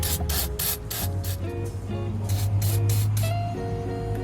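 Penetrating lubricant sprayed from an aerosol can onto turbocharger bolts, a loud close hiss in short repeated bursts that merge into a longer continuous spray, with a low mechanical hum beneath.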